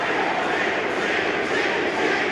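Football stadium crowd at an Oxford United versus Newcastle United match, a dense steady roar of voices grumbling in discontent after a foul is not given, loud and continuous throughout with no clear break.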